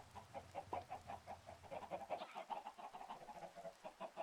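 Chickens cluck over and over in a Minecraft survival world, a busy stream of short, rhythmic in-game bird calls overlapping at moderate volume with no talking.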